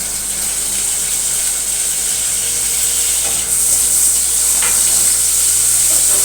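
Onion with ginger garlic paste fries in a pan, a steady close sizzle that runs continuously with faint scraping, no voices.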